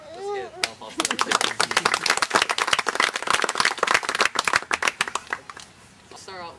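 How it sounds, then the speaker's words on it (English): Round of applause from a workshop audience: scattered sharp claps at first, then a dense burst of clapping that thins and tapers off at the end, with a voice briefly at the start. "So let's give a round of applause."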